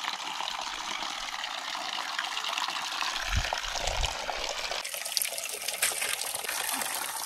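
Water runs steadily from a three-spouted stone tap in a rural village, a soft constant splashing gush, fairly faint, with brief louder low thumps midway and a hiss that brightens toward the end.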